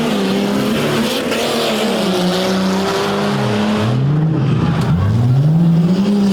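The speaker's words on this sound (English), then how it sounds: "Josh Johnson, who is already up on the RPMs" A monster truck engine roars loudly at a race start, its pitch rising and dipping as the RPMs climb, with a second truck droning close by.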